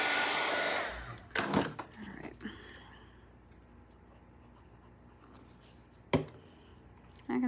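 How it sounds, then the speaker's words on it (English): A hair dryer blows loud and steady on a handmade Santa ornament for about a second, then cuts off, followed by scattered handling clicks and knocks in a quiet room. "Hit it with a dryer real quick."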